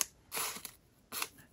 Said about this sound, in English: I love this part when I peel it